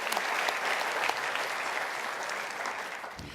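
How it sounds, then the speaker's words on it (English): A large dinner audience at an ethnic business awards gala claps together for the category nominees, a thick, even roar of hands heard from a distance at moderate level for a few seconds. "I think they all deserve another round of applause."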